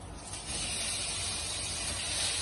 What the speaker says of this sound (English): Once the onions are brown, add the chopped tomatoes into the pan